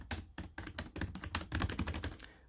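Fast, steady typing on an iPad Pro keyboard case, a dense run of crisp, close key taps at an even rhythm with a short pause early on, heard alone.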